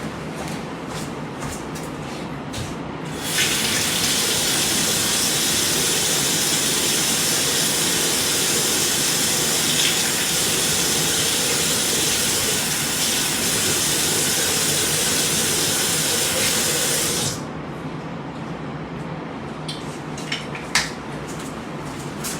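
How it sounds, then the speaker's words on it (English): Tap water runs over the detached head of a galvanic spa facial device. The stream makes a steady, bright hiss that starts suddenly, holds for about fourteen seconds and then stops, with quieter handling clicks before and after. "you can just wash it under the tap"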